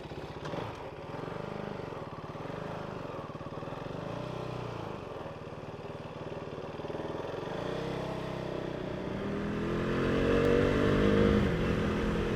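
A KTM RC390 motorcycle engine drones steadily while the bike is ridden, a continuous mid-pitched hum with wind that swells slightly louder near the end, with no voices.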